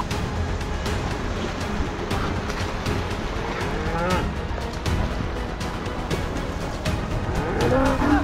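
Cattle moo close by as they are herded across a flooded river. Several long, low calls rise over a constant rushing of water, with shouting voices mixed in.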